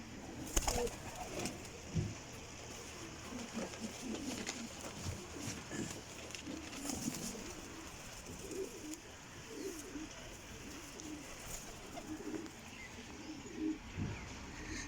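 Pigeons at a breeders' loft coo softly and repeatedly in low, rolling calls, mixed with occasional chirps and a few wing flutters, all fairly faint against quiet surroundings.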